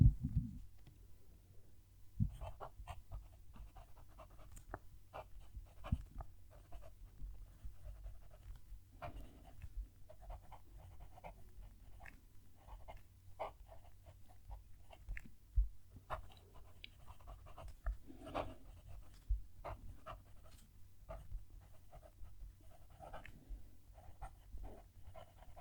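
A Kaweco Sport fountain pen nib writing on paper, giving faint scratchy strokes and light clicks that recur across the whole stretch, quiet and close with no talking.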